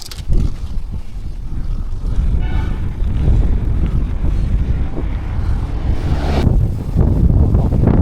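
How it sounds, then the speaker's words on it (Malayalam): Strong cold wind roars and buffets steadily across the microphone throughout a long-distance bicycle ride in the hills toward Vagamon, a loud continuous rushing with low rumble and no talk. "നല്ല തണുത്ത കാറ്റടിക്കുന്നുണ്ട്"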